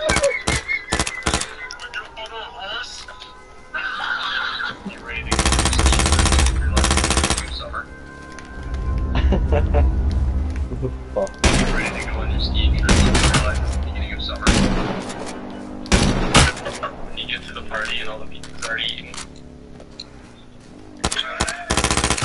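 Gunfire in the game H1Z1 arrives as repeated loud bursts of rapid automatic shots with single cracks and thuds in between, and a voice speaks at times.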